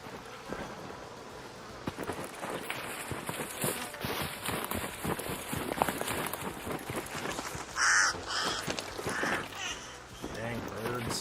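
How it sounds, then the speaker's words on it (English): Crows caw in the video game Arc Raiders, a few harsh calls standing out mid-clip over a busy layer of footsteps, movement and game ambience, with someone talking throughout. "Dang birds."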